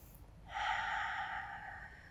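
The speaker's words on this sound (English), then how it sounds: "Just keep breathing here." Deep breath during a gentle lower-back yoga stretch: a brief quiet pause, then one long, close, breathy exhale that holds steady and slowly fades.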